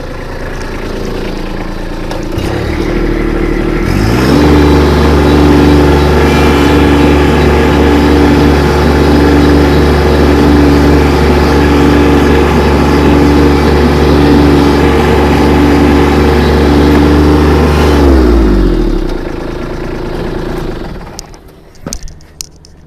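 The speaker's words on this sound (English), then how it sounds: "So I'm going to jump on the tractor and spread some manure." A tractor engine pulls a manure spreader with triple Conestoga beaters, starting up into a loud steady drone that holds for about fifteen seconds before winding down and fading out.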